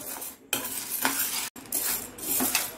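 A spoon stirs chana dal dry-roasting in a pan over low flame, making repeated scraping and rattling strokes at a steady rhythm, close and clear with no talk.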